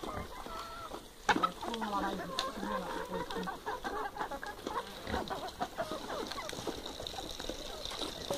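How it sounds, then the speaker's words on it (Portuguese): Chickens cluck on a farm at close to middle distance, with a loud burst near the start and steady background noise throughout. "Ele tem galinha ali."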